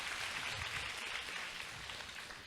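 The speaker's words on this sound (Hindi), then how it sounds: "इसके जोर से ताली बजावे मुन्नी दीदी को।" An audience applauds at a Brahma Kumaris hall inauguration at Anand Sarovar, producing a steady, dense wash of clapping that carries on without a break from start to finish.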